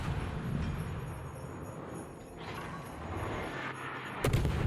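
Guns firing from a Russian Neustrashimy tier 9 destroyer in World of Warships, a rolling series of low booms over the steady rumble of the ship at sea, with a sharper blast near the end.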